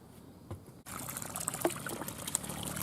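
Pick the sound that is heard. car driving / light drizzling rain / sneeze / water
water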